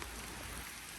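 Steady rain falls on surfaces in a park area near Pacific Palisades, a dense, even hiss that fills the short moment without a break, close and soft, with no voices.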